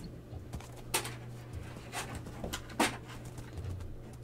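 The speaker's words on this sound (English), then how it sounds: "Dog, calm down." A dog pants close by, rhythmic breathy puffs repeating quickly over a low steady hum, with a couple of slightly louder huffs.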